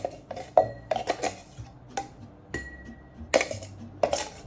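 Anchovies and capers dropped into a mortar while making fig anchoïade, giving a series of sharp clinks and knocks of food and utensils against the bowl, spaced irregularly and close.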